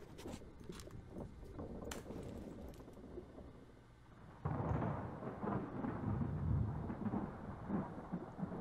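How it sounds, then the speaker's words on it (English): A thunderstorm rolls in aboard a ship in the game Return of the Obra Dinn, with sharp crackles at first, then a loud, sustained roll of thunder and rain rising midway and continuing. "Uh-oh, sounds like a storm's coming in."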